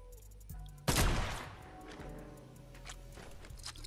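Video game gunfire bursts in a loud close blast with a rumbling tail, followed by scattered softer shots and thumps.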